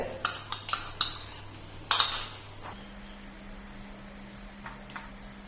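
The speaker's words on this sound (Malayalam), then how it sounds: "ഒന്നങ്ങ് ഇളക്കി കൊടുക്കാം എന്നിട്ട് ഇതിലോട്ട് ഒഴിച്ചു കൊടുക്കാം" Metal spoon clinking against a steel pot while beetroot pachadi is stirred, a few sharp scrapes and taps in the first two seconds, then a quiet hum with only faint ticks.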